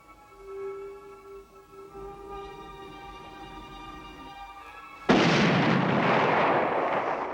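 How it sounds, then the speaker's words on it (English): A single loud signal cannon blast aboard a ship booms suddenly and rolls away slowly, following a sustained tonal hum and murmur beforehand. "Fire a signal cannon."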